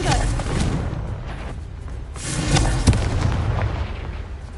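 Blasting fire spell in the Hogwarts Legacy video game: a series of loud, broad booming bursts and crackles, with a sharper blast near the end and a continuous rumbling roar throughout.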